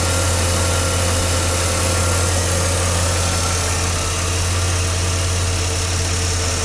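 A GMC S15 truck's 4.3L V6 idles after its throttle body injection was cleaned, a steady, even low rumble with constant vibration from start to finish, close and loud, no voices.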